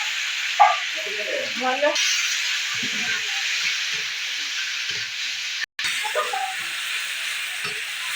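Onion, green chili and tomato fry in hot oil in a pot for a prawn dish, giving a steady close sizzle with soft knocks from stirring, and a brief spoken word over it.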